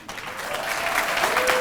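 An audience at an awards event breaks into warm applause welcoming a new director of MBE services, clapping that swells and holds steady, fairly close and dense.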